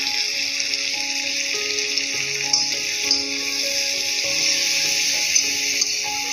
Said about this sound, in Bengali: মাঝখান দিয়ে চিড়ে দেওয়া কাঁচা লঙ্কা দিয়ে ভালো করে কুক করব।